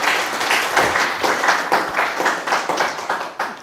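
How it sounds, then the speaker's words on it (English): Steady applause from an audience at an academic talk, a dense patter of many hands clapping at close range for several seconds. "Another round of applause for Dr."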